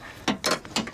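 A ratchet tightening bolts on the front bumper of a 2019 Chevrolet Colorado, giving three short, close clicking bursts in quick succession within one second.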